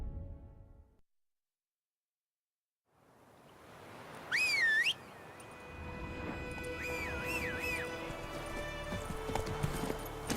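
Horse hooves clip-clopping at a gallop in The Witcher 3, a steady drumming that grows after a short silence and runs beneath a whistled melody and game music.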